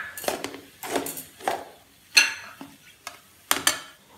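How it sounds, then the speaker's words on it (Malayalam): Potato masala with biryani masala is sautéed in a pan, with a spoon knocking and scraping against the metal in about seven distinct, evenly spaced strokes, close and clear with no talk. "ഇതിലേക്ക് ഒരല്പം ഉപ്പും കുറച്ച് ബിരിയാണി മസാലയും ചേർത്ത് ഒന്നും കൂടി"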